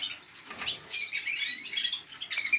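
Many small birds in an aviary chirp and tweet continuously, thin high calls overlapping at close range with no talk.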